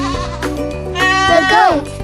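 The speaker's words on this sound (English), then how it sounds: "The goat." A farm goat bleats loudly and close by in one drawn-out, quavering call that rises and wavers, with no other sounds around it.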